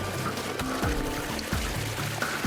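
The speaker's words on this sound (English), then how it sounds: "the water rushes in" Water rushes and gurgles steadily into a sinking car cabin, a constant churning flow with low sloshing pulses, close and continuous with no talking.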